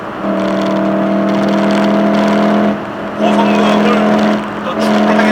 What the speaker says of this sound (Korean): 고속주행을 지금 하고 있는데 오히려 엔진 사운드가 아주 더 차분해지는 그런 느낌입니다.